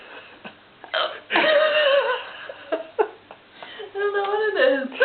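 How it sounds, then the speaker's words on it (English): Short, abrupt hiccups from a woman after eating Lithuanian ice cream, several catches spaced irregularly and heard close, mixed with voiced gulps and brief giggly sounds. "Did that ice cream give you the hiccups?"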